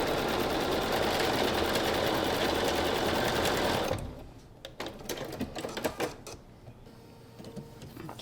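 A sewing machine chain pieces quilt blocks in one continuous fast run for about four seconds, then stops, leaving scattered handling clicks and light rustling; close up, nobody speaking.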